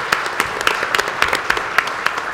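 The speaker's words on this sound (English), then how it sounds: "So, gentlemen, let's give them a round of applause." A meeting audience gives the panel participants a round of applause: a fairly sparse patter of individual claps, distinct hand strikes repeating irregularly at moderate loudness, with a few claps standing out above the rest.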